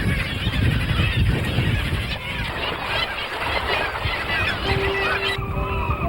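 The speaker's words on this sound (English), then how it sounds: "kittiwake rookery in Prince William Sound" Kittiwake chicks about 24 days old, downy and feathering out, call from a seabird rookery in Prince William Sound, Alaska: a dense, continuous chorus of harsh honking cries under steady background noise.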